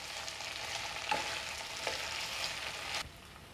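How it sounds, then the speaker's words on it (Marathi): A spoon stirs a pan of fried potato-slice vegetable dish (batata kachrya) topped with coriander, giving a steady close sizzle with a few sharper scrapes against the pan. "पुन्हा व्यवस्थित मिक्स करून घेऊया भाजी."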